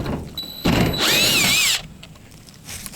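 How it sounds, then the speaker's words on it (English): A power drill spins up briefly and whines for about a second as it drives a screw fitted with a rubber gasket into a mobile home, close and fairly loud amid quiet surroundings. "We don't want to overdrive these. Because they have a rubber gasket, you just go until they're just good enough."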